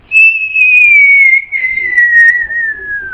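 A voice imitates a falling bomb with a long, loud whistle that slowly slides downward in pitch, broken by a short breath partway through.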